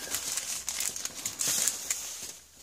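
Parcel packaging from China being opened by hand, close crinkling and rustling in quick irregular bursts with sharp crackles, no talking.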